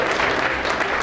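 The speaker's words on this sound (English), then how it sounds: "give her a round of applause." Wedding guests at Lillibrooke Manor break into a short, dense burst of clapping, steady and fairly loud throughout, with a faint murmur of the crowd beneath.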